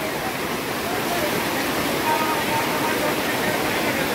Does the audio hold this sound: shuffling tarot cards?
no